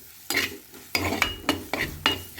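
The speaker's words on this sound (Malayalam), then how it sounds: "തക്കാളി ഇട്ടിട്ട് നല്ലോണം വാട്ടിയെടുക്കാം" Tomatoes sautéing with chili and turmeric for a sardine curry, stirred in a pan with four or five distinct scraping strokes over a soft sizzle, close and alone.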